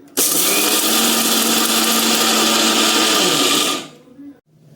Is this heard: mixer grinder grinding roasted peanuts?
yes